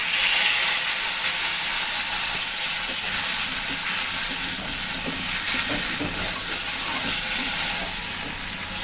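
Ginger, cumin, chili and turmeric paste sizzles in hot oil in a pan, a steady close hiss with crackling bursts, no voices over it.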